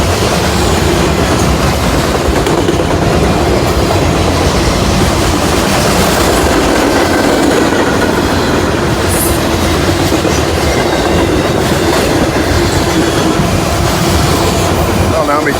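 A loud freight train rumbles past close by in Sidney, Ohio, wheels clacking steadily over the rails with occasional squeals, continuous for the whole stretch.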